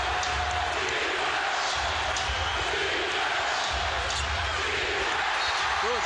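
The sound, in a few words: basketball arena crowd cheering during NBA game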